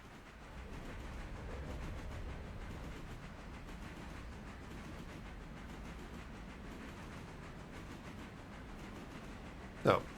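A train in the Railroader simulator game rolls with a steady rumble and faint rhythmic clatter over ten seconds, ending in a brief sharp click.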